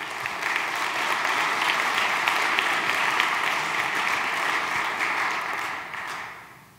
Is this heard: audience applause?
yes